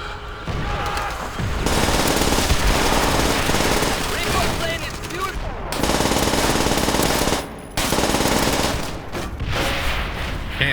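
Sustained automatic gunfire from a weapon in Call of Duty: World at War, loud and continuous bursts with brief pauses, a player's voice occasionally under the shooting.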